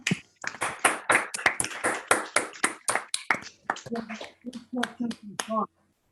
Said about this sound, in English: let's unmute and thank Sean with a round of applause